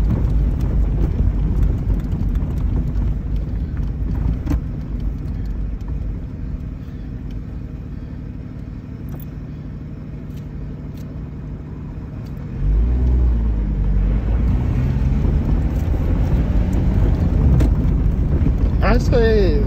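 Lotus Exige 350 Sport engine drones steadily from inside the cabin while driving, a low rumble that deepens and swells louder after a brief lull, with occasional knocks and road noise around it.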